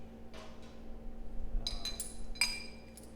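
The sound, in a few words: old milking equipment gasket tossed into the trash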